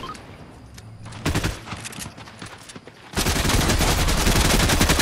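Drum gun in a shooter video game lets off loud rapid bursts of automatic fire, first in short broken volleys, then in one continuous dense stream.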